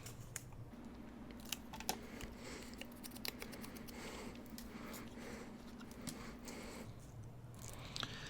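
Scissors snip through paper flower cards in a run of quick, irregular clicks and crisp cuts, close and quiet over a low steady hum, with no speech.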